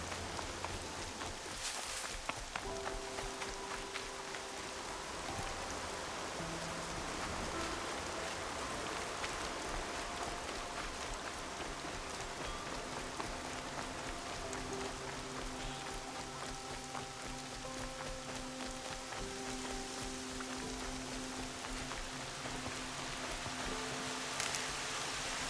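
Rain falls across the landscape in Horizon Zero Dawn on PS5, a soft, steady wash of drops and trickling water lasting throughout, with faint tonal game music and ambience underneath.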